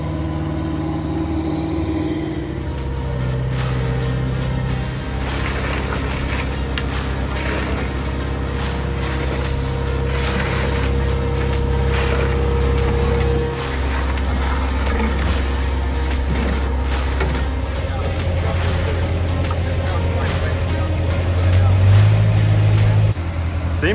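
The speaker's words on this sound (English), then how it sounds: "Cement truck leaving, dump truck coming in." Heavy trucks at a construction site where a concrete pad is being poured: a cement truck pulls away as a dump truck arrives, steady low diesel engine rumble throughout, rising and shifting near the end, with faint voices in the background.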